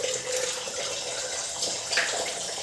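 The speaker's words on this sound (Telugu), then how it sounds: "సో ఇప్పుడు నేను ఎగ్స్ అయితే యాడ్ చేస్తున్నాను అనమాట" Eggs cracked straight into well-heated oil for egg fried rice, giving a loud, continuous sizzle and spatter that stays close and even throughout.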